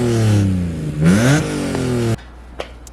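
A BMW E46 M3 revs hard with a new Scorpion exhaust, rising and falling in a loud, near run of revs with a sharp blip about a second in, then cutting off abruptly into a quiet room.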